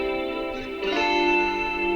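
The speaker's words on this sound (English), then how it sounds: "I combined dry and wet samples and pitched them up by 2 semitones, and I add some reverb" Sustained, shimmering guitar chords, combined dry and wet samples pitched up two semitones, ring out with a wide, washy reverb tail, a brief swell partway through, close and moderately loud.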